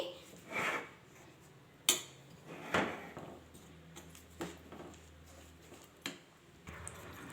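Semolina stirred into jaggery syrup in a pan, stove switched off: quiet, scattered scrapes and soft clinks of a spoon against the pan, with a few sharper knocks spread through, and no one speaking.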